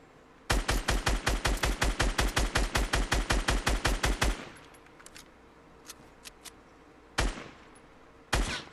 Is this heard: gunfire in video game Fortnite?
yes